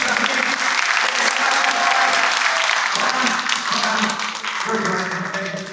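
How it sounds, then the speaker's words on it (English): Audience at an Agrodome show in Rotorua gives the contestants on stage a big round of applause, a loud crowd of clapping hands that holds steady and then tapers slightly, with some voices mixed in. "have a lovely big round of applause for our buddy contestants up here."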